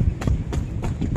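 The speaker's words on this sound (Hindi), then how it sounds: "हम लोग ये बैठे हुए हैं घोड़ा गाड़ी में" Horse hooves clip-clop steadily from a horse-drawn carriage moving through Pakistan Chowk streets during Ramadan, with a few evenly spaced, fairly close knocks over low rumbling road and wheel noise.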